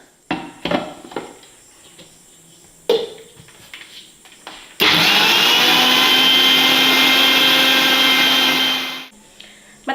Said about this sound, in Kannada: ಮತ್ತೆ ಇದಕ್ಕೆ 1 ಗ್ಲಾಸ್ನಷ್ಟು ನೀರನ್ನ ಹಾಕಿ ಇನ್ನೊಂದ್ಸಲ ರುಬ್ಕೊಳ್ಳೋಣ